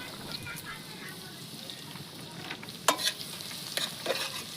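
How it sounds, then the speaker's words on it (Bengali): Crushed garlic and ginger fry in mustard oil with mustard seeds, giving a steady sizzle broken by scraping stirs and clatters of a spatula in the pan. "এইদিকে আদা রসুনটা ভাজা হইতে লাগুক"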